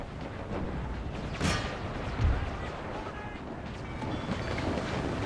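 Cannon fire on a Napoleonic-era battlefield in Empire: Total War with the Brothers vs. Brothers mod: a couple of dull distant booms rise from a constant wash of wind-like battle noise, with a voice talking over it.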